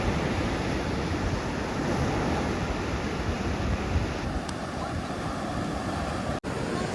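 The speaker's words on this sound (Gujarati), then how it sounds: "મોજા થઈ ગયા કેટલા થઈ ગયા?" Stormy sea waves surge and crash in a continuous roar on rough open water, with heavy wind buffeting the microphone; a faint boat sound may sit beneath, and nobody speaks.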